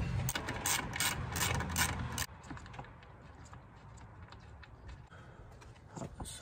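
Ratchet removing 12 mm bolts on a 2002 Subaru WRX, a burst of rapid clicking for about two seconds, then quieter intermittent clicks and handling noise.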